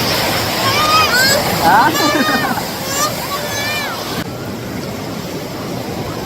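Rushing waterfall water splashes loudly nearby as children play in it, shouting and calling out over the constant roar.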